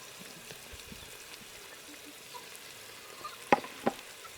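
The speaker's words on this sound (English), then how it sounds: "I've added ginger now. Allow the ginger to cook." Ginger frying in a pan for Ambur chicken biryani, a faint steady sizzle with two sharp utensil clinks near the end.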